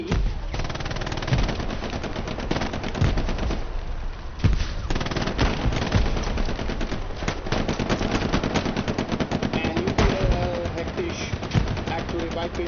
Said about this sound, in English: Patronas is actually holding that angle pretty good with the MG.